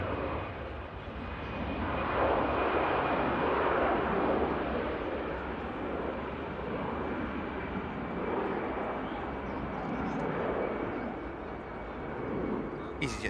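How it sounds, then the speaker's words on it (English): An EasyJet airliner takes off at Manchester Airport, its engines a broad, steady roar that holds loud throughout, with a faint high whine running over the rumble. "EasyJet should rotate around here."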